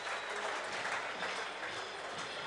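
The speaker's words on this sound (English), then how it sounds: "Very popular try, getting an ovation from the crowd." A rugby league crowd applauds a try at a Championship match between Featherstone Rovers and Dewsbury Rams, a steady dense wash of clapping from a distant stand with no talk over it.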